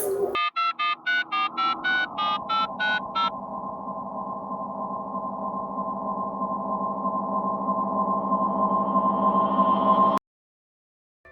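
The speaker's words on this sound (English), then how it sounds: "the one who says he's our biggest fan, contacting us via spooky phone all the way from the South Pole for some reason, the Christmas demon Krampus" An eerie telephone ringing starts with a rapid series of electronic beeping tones, then gives way to a long sustained droning tone that swells slightly before cutting off abruptly, with no voices.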